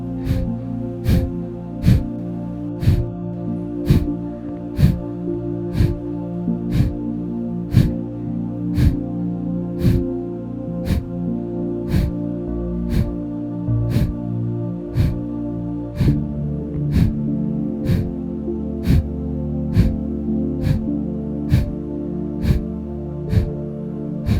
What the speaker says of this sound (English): let's begin the second round of Kapalabhati and begin